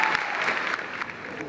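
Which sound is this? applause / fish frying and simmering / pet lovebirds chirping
applause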